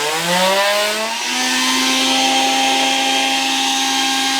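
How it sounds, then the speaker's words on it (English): A blender spins up on a Bluetti Elite 100 V2 portable power station while a charger also draws power, its motor whine rising in pitch and then settling into a loud, steady drone. "let's put the blender on"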